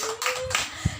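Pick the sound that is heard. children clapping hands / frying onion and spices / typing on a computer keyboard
children clapping hands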